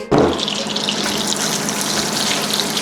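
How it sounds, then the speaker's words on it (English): Onions sautéing in olive oil, butter and chili flakes in a pot: a loud, continuous sizzle like food frying in hot oil starts abruptly and holds steady, with no voices. "in a pot, you're gonna add your olive oil, your butter, chili flakes, stir it up on the heat and saute"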